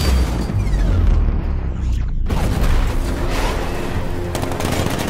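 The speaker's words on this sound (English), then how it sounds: "Six-millimeter cannon operational." A six-millimeter cannon fires in the Batman Arkham Knight video game, unleashing loud, rapid bursts with heavy booming impacts. After a brief lull the bursts resume in dense, rattling volleys.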